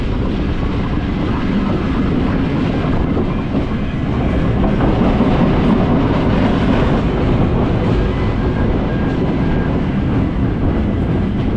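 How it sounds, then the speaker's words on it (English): Melbourne Tait suburban train crossing a tramway square at Riversdale, a loud steady rolling rumble with clickety-clack of wheels over the track junction, continuous and close, no voices. "At Riversdale, we pass over one of the 2 remaining tramway squares on the network."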